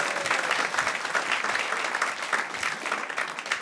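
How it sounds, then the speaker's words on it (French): A comedy club audience applauds steadily, a dense wash of clapping hands that holds at an even level from start to finish. "on l'applaudit pour lui, s'il vous plaît"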